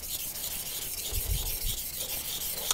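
A kitchen knife is rubbed across a 1000 grit whetstone in soft, low strokes, a faint gritty rasp under a steady background hiss with no speech.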